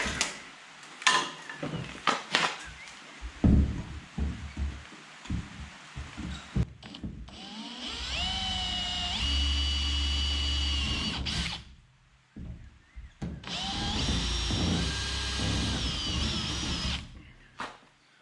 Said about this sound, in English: So we've got all our holes drilled for most of our stuff.